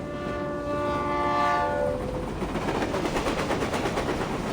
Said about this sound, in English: And why is the stupid train never on time?